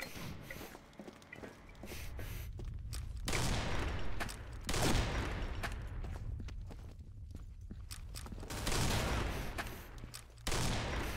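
Gunfire in the online shooter Combat Arms comes as quiet bursts and single shots scattered among footstep-like clatter, with recurring sharp cracks over a busy game mix.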